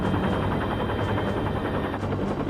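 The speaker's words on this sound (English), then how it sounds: "In the form of an Air Force helicopter." An Air Force helicopter hovers over a whale rescue, its steady rotor roar and low throbbing filling the scene continuously at close range with no talk.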